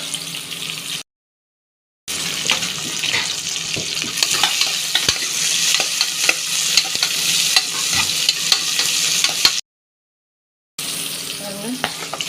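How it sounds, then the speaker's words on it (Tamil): Onions frying and being stirred in a pressure cooker for chicken gravy, a loud close sizzle with scraping stirs throughout, broken by two brief silent gaps, no speech. "வெங்காயம் கொடுப்போம் சிக்கன் கிரேவிக்கு"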